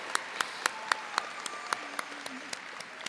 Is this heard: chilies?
no